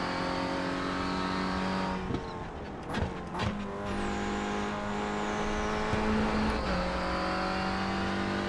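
A front-wheel-drive Renault Clio Cup race car in iRacing holds a loud, steady engine drone, with sharp gear-shift dips and re-acceleration around corners, plus a brief tire squeal.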